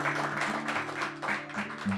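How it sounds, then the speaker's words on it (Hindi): Enthusiastic applause for a performer named Simran at an Urdu-Hindi poetry gathering: steady, close hand clapping lasting about two seconds, with a faint musical hum underneath. "सबसे पहले सिमरन के लिए जोरदार तालियां भाई"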